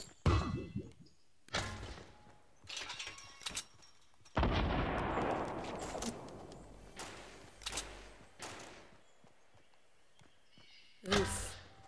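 Grenades burst in a Fortnite match, one heavy explosion rolling out midway among several sharp bangs and impacts, with a player talking in between.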